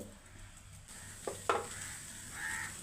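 Chopped onion, green chillies and curry leaves sizzling in a clay pot on a stove, a steady soft frying hiss with a couple of sharp scrapes as the mix is stirred.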